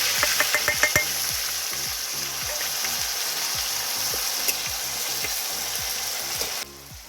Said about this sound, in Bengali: আর একটা গোটা তেজপাতা তারপর এখানে পেঁয়াজ বাটাটা দিয়ে দিলাম